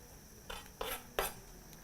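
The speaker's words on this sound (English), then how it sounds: "slicing them into half, and using your knife just proceed to remove that inner white membrane with the seeds" A knife works on halved chilies on a cutting board, scraping out the white membrane and seeds, giving three short close scraping and tapping strokes spread across a quiet moment, with no talking.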